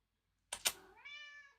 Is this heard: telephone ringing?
no